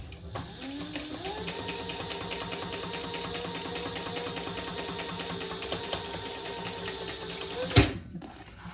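A sewing machine stitches a seam in one steady, continuous run of rapid mechanical whirring that lasts most of the time, then stops with a brief louder clack near the end.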